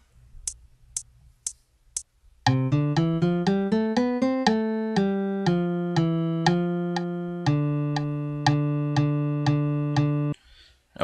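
Song playback from Power Tab Editor tablature software: four sharp count-in clicks, then a synthetic plucked guitar-like line of rapid, evenly spaced notes, some held longer, ending abruptly.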